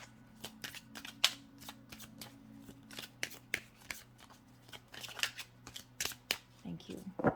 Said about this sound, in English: let's pull some more cards for you